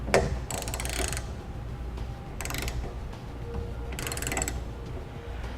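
A ratchet wrench tightens the front bolts on a Thule TracRac SR sliding truck bed ladder rack, producing three separate bursts of rapid clicking against a quiet background.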